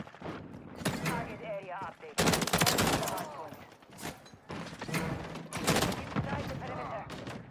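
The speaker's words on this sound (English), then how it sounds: "Is that a shotgun to hit me?" Video game gunfire from Call of Duty MW3, loud repeated shots and bursts across the whole stretch mixed with game effects and some speech.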